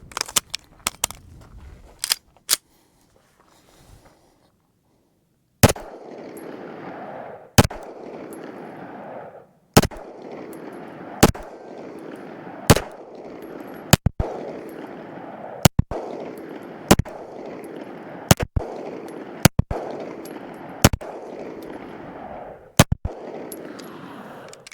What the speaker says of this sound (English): So here we go, first shots.